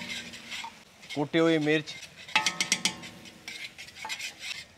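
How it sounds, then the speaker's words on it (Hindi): Chicken filling with green chillies and chopped green onion is stirred in a pan on medium flame, giving soft scraping and clinking of a spoon against metal at moderate level, while a voice speaks briefly. "इसको 1 से 2 मिनट फ्राई करना है मीडियम फ्लेम पे"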